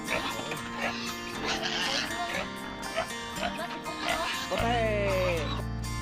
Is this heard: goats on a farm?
yes